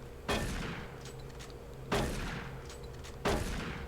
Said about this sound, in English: try to shoot the wall. One bullet hole appears. Shoot again.